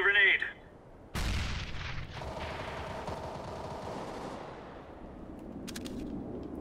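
Grenade thrown in Counter-Strike: Global Offensive, a sharp loud burst of gunfire-like noise with a booming blast that decays into rumbling debris, followed by scattered faint shots, all without speech.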